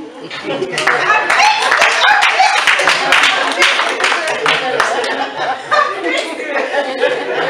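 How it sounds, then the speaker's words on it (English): Loud, sustained audience applause at a coaching services graduation ceremony, dense rapid claps mixed with cheers, chuckles and crowd chatter, lasting the whole stretch before thinning slightly toward the end. "I need a big applause today."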